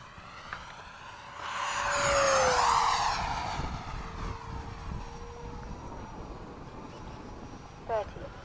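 A Freewing 90mm F-22 RC jet passes at high speed, its ducted-fan whine swelling loud then fading as it sweeps by, with a faint voice briefly heard afterward.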